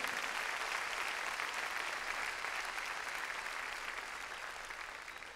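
A congregation at a church service claps strongly and steadily, a dense wash of applause that holds without pause and eases slightly at the end.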